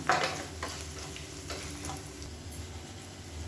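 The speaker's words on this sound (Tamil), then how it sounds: "லேசாக பெருங்காயத்தை பொரிய விட்டுட்டு இதை அப்படியே சட்னியில் எடுத்து கொட்டிடலாம்" Asafoetida spluttering in hot oil with fried onions for a chutney tempering, a continuous close sizzle with light crackles and a few soft stirring clicks.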